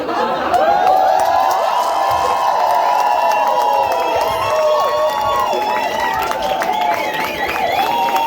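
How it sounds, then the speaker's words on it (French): A crowd at a live burlesque comedy show cheers and whoops, with excited voices and shouts ringing loudly over continuous clapping. "En applaudissant là!"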